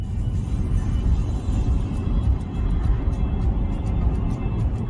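Car driving on a road, heard from inside as a continuous low rumbling engine and tyre noise, steady and fairly loud, with no talk.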